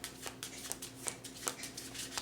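A deck of playing cards being shuffled, a series of soft riffling bursts and flicks at a steady rhythm, close but quiet, with no talking.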